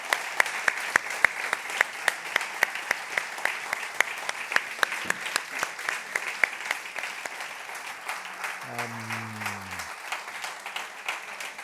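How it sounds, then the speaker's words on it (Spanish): Audience at a round-table discussion gives the six speakers sustained applause, dense steady clapping with distinct nearby claps, moderately loud, while someone speaks briefly toward the end. "Yo propongo que hagamos un fuerte aplauso a los 6 ponentes"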